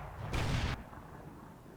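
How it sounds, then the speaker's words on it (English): Gunfire and artillery in a tank video game, with a SU-100 tank destroyer in a medium-tank match: a single loud, broad blast lasting under half a second, then a low, quieter rumble of battle. "Gunfire everywhere."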